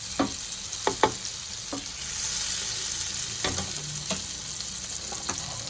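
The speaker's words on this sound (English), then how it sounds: "And just stir it up a little bit." Mushrooms stirred in a hot frying pan, a continuous sizzle broken by several sharp utensil scrapes and knocks against the pan, close and alone.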